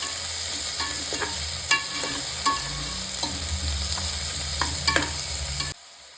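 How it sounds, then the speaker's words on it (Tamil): Ingredients for South Indian tomato rice sautéing in a frying pan, a steady sizzle with repeated scrapes and taps of a spoon stirring, ending abruptly. "நல்லா வதக்கிக்கலாம்."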